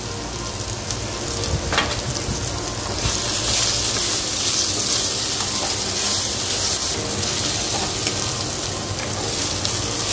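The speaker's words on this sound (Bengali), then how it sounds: "আলুটা আমার ভাজা হয়ে গেছে" Potatoes fry in hot oil in a pan, a steady, fairly loud hiss and crackle that swells slightly midway and keeps going throughout.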